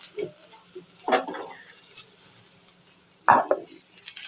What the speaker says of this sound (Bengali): চলো আলুটা ভাজা ভাজা হয়ে যাক